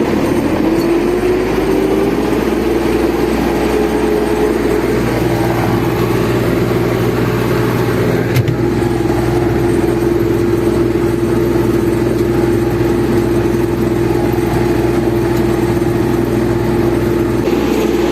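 MTZ 892.2 tractor in fifth gear pulling a LEMKEN Opal 090 plough through a field, a loud continuous engine drone with a steady low hum that holds for the whole stretch, heard from close by with no talking.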